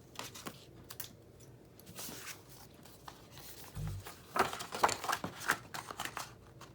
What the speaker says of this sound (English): Take my scissors and trim.